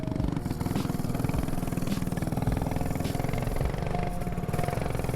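Custom mini chopper motorcycle engine running steadily close by, a continuous mid-pitched putter with a fast, even pulse throughout, no talking over it.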